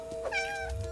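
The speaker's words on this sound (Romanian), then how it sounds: "Oh, ce pisicuță!" A cartoon kitten from an animated Disney Junior Spidey and His Amazing Friends episode gives a single short, high, tonal meow, close and clear, with no talk over it.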